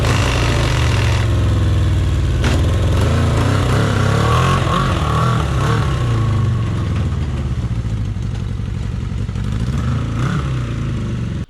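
Homemade bat bike running under its own power for its first test, a loud continuous engine rumble with rattling clatter, close and steady throughout.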